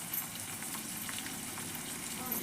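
Curry leaves and green chillies frying in oil for avarekalu upma give a steady, soft, continuous sizzle, even in level throughout and without distinct pops.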